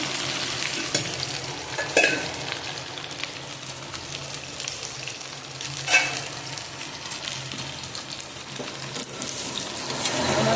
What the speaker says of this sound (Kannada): ಬೆಂಡೆಕಾಯಿ ಹುರಿಬೇಕು ಸ್ವಲ್ಪ ಬಿಸಿಯಾಗಲಿ